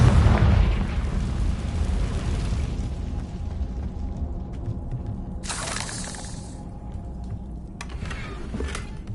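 A Confringo fire-blast spell erupts in a wizarding video game, a loud booming explosion that rumbles and fades over several seconds, followed by quieter crackling bursts.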